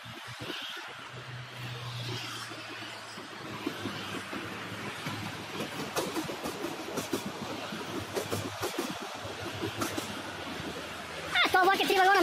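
A three-car train rumbles past at close range, a steady rolling clatter of wheels on rails that builds toward the end, with people talking over it.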